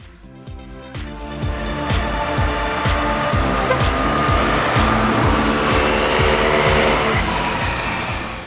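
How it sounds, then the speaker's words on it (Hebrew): Engines of racing vehicles roar continuously, heard from behind as a steady loud drone with a regular pulsing beat running throughout. "מאחור עולים עדיין קולות מנועים"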